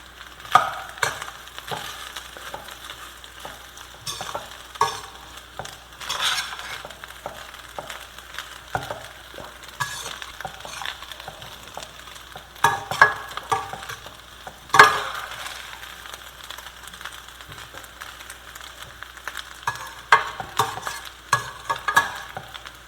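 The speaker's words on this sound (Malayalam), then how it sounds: "ഇത് നമ്മൾ നന്നായിട്ട് ഇളക്കി യോജിപ്പിക്കണം." Puliyogare masala is stirred and mixed in a pan, a spatula scraping and tapping in irregular strokes over a soft background sizzle, with sharper clinks now and then and no talking.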